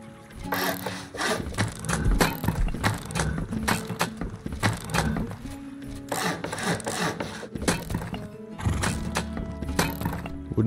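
Horse sounds in the Rust video game mixed with repeated wooden knocking and rubbing noises from gathering and building, a dense, busy run of clip-clop-like thuds with whinny-like tones.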